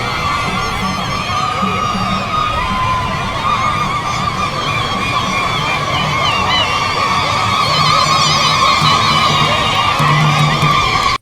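A large street crowd cheers and shouts as the president travels from the airfield to the presidential residence in the town centre, a loud continuous roar of voices with whistles and higher cries rising over it.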